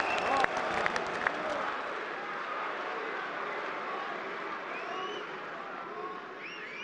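Steady applause from a large audience runs throughout, dense and continuous, a few sharper claps near the start, with some voices mixed faintly into the clapping.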